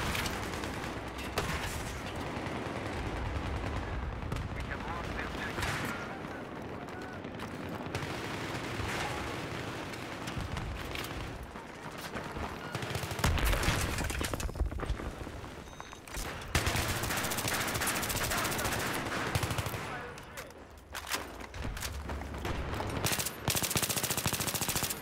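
Battlefield 3 combat with sustained, loud machine gun bursts and dense overlapping gunfire and explosions throughout, continuous with brief dips, and no talking.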